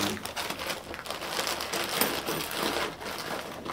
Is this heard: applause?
no